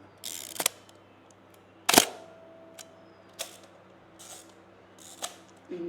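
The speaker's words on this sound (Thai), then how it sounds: "เนี่ยถ้าชัตเตอร์สปีดที่สูงขึ้นนะครับลองดู" A Hasselblad camera with a focal plane shutter fires several times at higher shutter speeds, producing sharp mechanical clacks at uneven intervals, close and clear, with faint winding sounds between and no speech.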